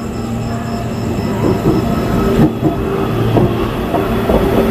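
A neighbouring train rolls along the adjacent line beside a stationary Puri–Howrah superfast express, a steady loud rumble with low hum and scattered wheel clatter, no talking.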